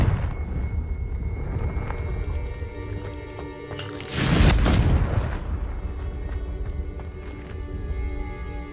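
A Confringo spell blasts in Hogwarts Legacy: over a steady bed of game ambience, one loud, booming burst hits roughly midway, swells briefly and then settles back into the background.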